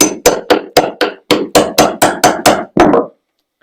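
A hammer taps a cat's paw nail puller into old wood, eleven sharp, evenly spaced metal-on-metal strikes in quick succession, close and loud, with no talking.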